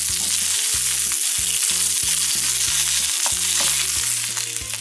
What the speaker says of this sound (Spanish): Vamos a freír por unos 4 minutos.